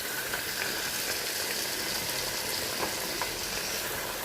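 Chickpeas fry with spices in a pot for couscous, a steady loud sizzle with faint stirring scrapes, close and continuous.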